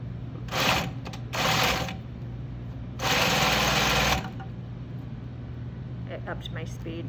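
A sewing machine back stitches the start of a shirt yoke seam in three short motor runs, the last one longer, each a steady buzzing whir at close range with a quiet pause between them.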